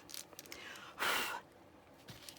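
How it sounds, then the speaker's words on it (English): A person blows a single short, close puff of air to clear pet fur off paper while making a junk journal, a breathy burst in an otherwise quiet room. "Sorry if you heard me blow."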